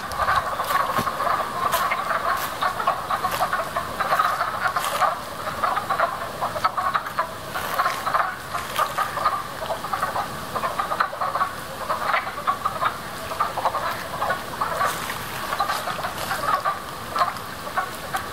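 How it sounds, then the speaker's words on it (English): A dense chorus of many frogs croaks continuously and loudly, overlapping in a thick, rattling din with no pauses. "that's when the frogs come back out. Let's go hear them."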